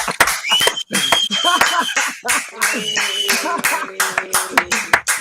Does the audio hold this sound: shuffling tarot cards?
no